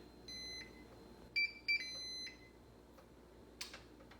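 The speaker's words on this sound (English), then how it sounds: "that beep indicates that we are preheated and ready to go" A few short electronic beeps from an All-Clad indoor grill signalling it has preheated, quiet, with a pause between a single tone and a quick double beep, then a longer tone.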